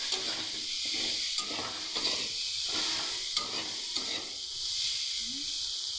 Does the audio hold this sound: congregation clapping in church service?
no